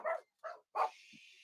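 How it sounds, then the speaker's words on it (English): Three quick barks from dogs nearby, evenly spaced and fairly loud, followed by a soft yip and a faint high whine. "And there go the dogs."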